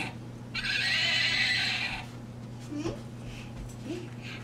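A toy horse gives a loud electronic neigh lasting about a second and a half, followed by soft child babbling over a steady low household hum.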